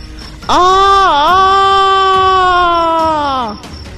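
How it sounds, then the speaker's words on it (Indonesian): A man's single loud, piercing scream held for about three seconds, wavering briefly early on before trailing off. "tiba-tiba terdengar teriakan yang memekakkan telinga yang berasal dari dalam rumah"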